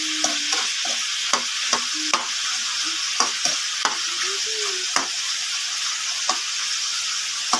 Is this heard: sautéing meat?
yes